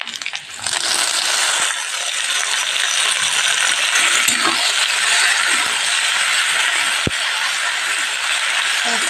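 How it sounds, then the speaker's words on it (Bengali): Drained pasta being added to a pan of fried onions, a loud, steady hiss and crackle of frying that rises abruptly after a short opening and holds, with a few scraping and clinking touches. "এবার আমি পাস্তাটা দিয়ে দেবো"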